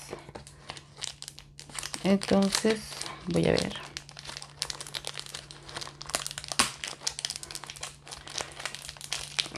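Crinkling and crackling plastic perfume packaging being torn and worked open by hand, with short bursts of rustling under a person speaking nearby.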